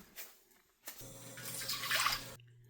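Water and milk poured into a cooking pot for paramannam, Telugu sweet rice pudding, a steady bright liquid splash building over about a second and a half, close and moderately loud, with a low hum underneath, no talking.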